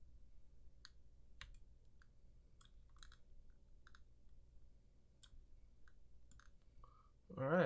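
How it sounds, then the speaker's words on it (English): Typing on a Percent Skog Lite mechanical keyboard: sparse, crisp clicks and clacks at an uneven rhythm, fairly close and quiet, ending with a brief burst of a voice. "let's do some typing, see how it sounds"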